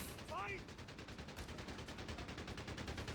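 Heavy machine guns firing in the WWII strategy game Company of Heroes 3 during a 1v1 match, with a half-track flanking, as rapid, evenly spaced bursts that pulse steadily through the whole stretch over a dense battle din.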